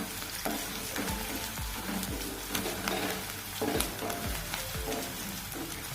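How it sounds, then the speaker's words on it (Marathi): Curry leaves crackle and sizzle steadily in hot oil, with a spoon scraping and stirring the pan in several distinct strokes, close and moderately loud. "त्यामध्ये कढीपत्ता टाकायचा। परत छान फिरवून घ्यायचे।"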